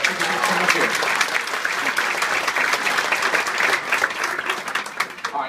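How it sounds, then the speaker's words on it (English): Audience applause at a live show, steady and full from start to finish, dense clapping with a few cheers mixed in, fairly close and loud. "let's hear it one more time for Expert Tweeter"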